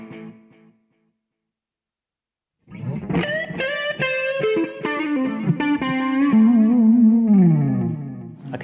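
Electric guitar played through a Boss V-Studio 20 with overdrive, chorus and delay: sustained, distorted chords and notes with shimmering modulation and trailing echoes, starting after a brief silence and continuing loud to the end.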